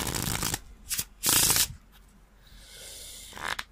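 Riffle shuffle of a deck of stiff, hard playing cards: a few short, loud fluttering bursts of cards snapping together close up, the last one fading into quieter rustling.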